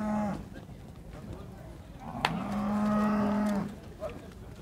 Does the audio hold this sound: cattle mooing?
yes